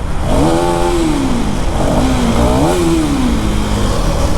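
A KTM Duke 390 motorcycle engine revs loudly nearby, its pitch climbing and falling in two or three swells over a constant rough roar.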